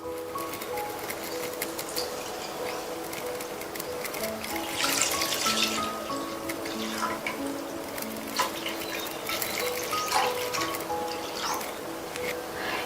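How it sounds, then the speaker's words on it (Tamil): Full-fat milk, one litre with no water added, pours into a pan on the stove for a sweet recipe, giving a steady liquid trickle and splash that runs through the whole stretch, close by with light kitchen background. "அடுத்து இந்த பேன்ல தண்ணி சேர்க்காத ஃபுல் ஃபேட் மில்க்"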